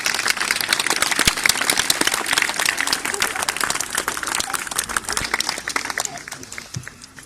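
Applause for the masons at a foundation-stone blessing ceremony, a crowd clapping dense and steady for several seconds before thinning out toward the end, fairly loud and close.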